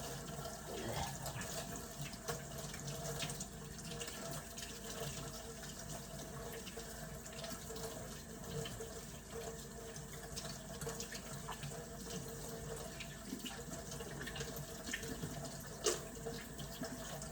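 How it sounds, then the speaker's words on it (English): Hands are washed under a running tap at home, giving a steady, soft rush of water with faint splashing and small handling clicks, continuous and fairly quiet throughout. "It takes me so long to wash my hands because I be trying not to dry my hands out."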